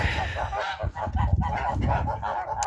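Domestic geese and ganders honk and cackle in a farmyard flock, a dense overlapping chorus of calls close by, steady for a few seconds.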